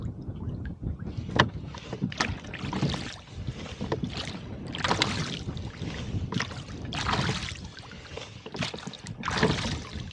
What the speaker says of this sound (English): So right now we have a bit of a headwind that we're rolling into.